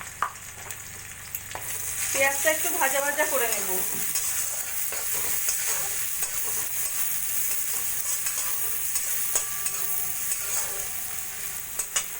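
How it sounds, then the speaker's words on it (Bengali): Thinly sliced onion frying in hot oil in a pan, a continuous close sizzle with a burst of stirring and scraping early on, then settling into a steady crackle. "ওই তেলের মধ্যে দিয়ে দেবো একটা ছোট সাইজের পেঁয়াজ পাতলা পাতলা করে কেটে নেওয়া"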